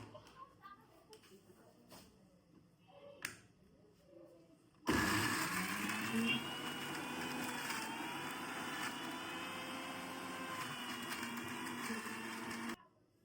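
An electric blender jug grinds raw coriander leaves into a mash: after a few quiet seconds of small knocks, the motor starts abruptly, roars loud and steady for about eight seconds, then cuts off.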